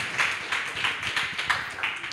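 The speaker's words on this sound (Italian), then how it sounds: "Questo applauso include anche l'applauso per il secondo gruppo" Audience applause for student groups at a talk on star formation, steady rhythmic clapping from a moderate-sized crowd, heard alone at a fairly even level.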